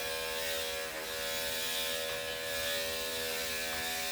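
Electric clippers buzz steadily as they shave a dog's fur close to the ear, a continuous near motor whine holding even for the whole stretch with no talking.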